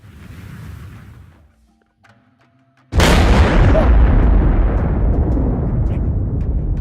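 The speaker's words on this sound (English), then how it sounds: "Set off the fireworks!" A fireworks show set off in what may be a VR game: after a quiet lead-in, a sudden loud blast erupts at about three seconds and rolls into a sustained, dense roar of bursts and crackle that fills the rest of the clip.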